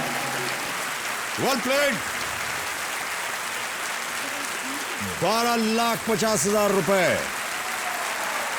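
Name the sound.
studio audience applause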